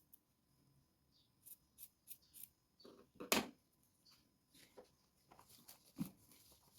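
Scissors snipping a small piece of black plush fabric, a series of quiet, separate cuts and rustles with one louder snip near the middle, in a quiet room.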